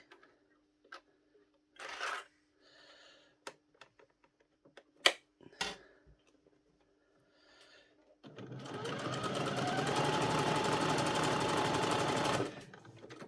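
A sewing machine runs a zigzag stitch along a bulky trouser waistband seam on jogging bottoms: a sustained, loud, steady mechanical whirr of about four seconds, preceded by scattered clicks and handling knocks.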